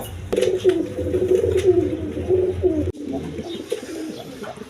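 A pair of big Lahori Sirazi pigeons coo steadily up close, a continuous rolling coo with a brief break near the end.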